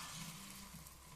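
Batter hits a hot pan and sizzles in a short, steady hiss close by, quiet, with no talking.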